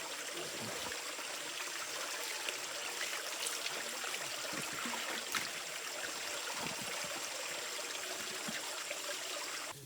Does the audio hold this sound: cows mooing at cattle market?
no